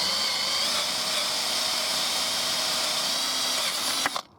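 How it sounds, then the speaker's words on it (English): Power drill boring holes for an allotment build, a steady high whine running continuously for about four seconds, then cutting off abruptly with a faint clunk. "All the holes have been drilled now on all these."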